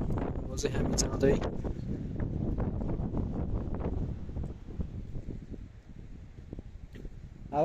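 Strong wind at Zambujeira beach in Portugal, heard from above the shore as gusty buffeting against the microphone, loud and rough in the first seconds and then easing into softer, uneven gusts.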